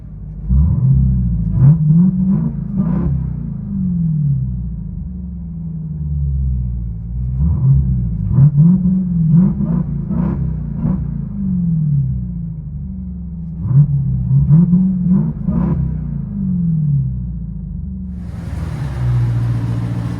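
A 2023 Dodge Durango SRT Hellcat, 700 horsepower, with its mid-muffler deleted and a Scott muffler, rumbles close by and barks through three rising rev bursts separated by deep idle, with no talk.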